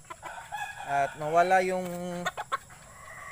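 Bantam chicken clucking and squawking while being handled, a loud close protesting call with a few short clucks after, as someone speaks quietly nearby.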